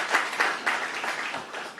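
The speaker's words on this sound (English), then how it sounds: "you could give her a round of applause" Applause at an official ceremony releasing Caribbean exam results, a short round of clapping from a modest audience with individual claps distinct, fairly close and uneven in rhythm.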